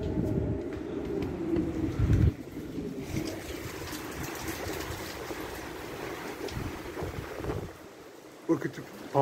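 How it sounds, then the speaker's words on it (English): Heavy wind from Hurricane Hilary in Baja, Mexico roars through an open door, a loud, steady rushing blast that holds through most of the stretch before easing near the end. "And possibly you can hear the wind."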